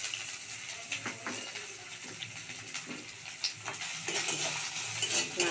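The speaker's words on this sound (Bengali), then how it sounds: "নারকোলটা ভালো করে ভাজবো" Grated coconut frying in a pan gives a soft, close sizzle with repeated scraping stirs at an uneven pace.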